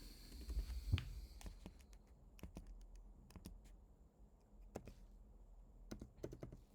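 Typing on a computer keyboard during accounting data entry, with scattered quiet key taps and clicks in irregular clusters over a soft room hum.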